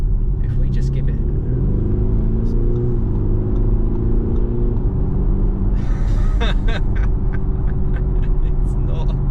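A 2022 Audi SQ5 engine revs under acceleration, a deep continuous rumble with rising and falling pitch sweeps, heard from inside the cabin with talk over it.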